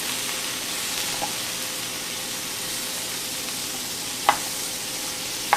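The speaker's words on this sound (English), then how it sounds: "we're going to get that butter right on down in there" Butter and onions sizzle steadily in a frying pan, a loud, close, continuous hiss with a few brief clinks of a utensil against the pan near the end.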